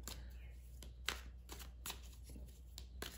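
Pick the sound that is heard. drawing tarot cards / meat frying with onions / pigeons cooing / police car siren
drawing tarot cards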